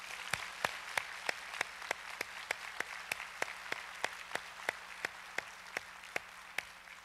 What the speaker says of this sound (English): Let's give them one last applause.